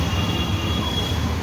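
A metro train rumbles at Shivaji Stadium metro station in Delhi, a steady low roar of rolling rail cars with a faint high whine held throughout, no voices present.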